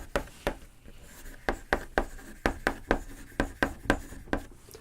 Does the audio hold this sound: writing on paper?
yes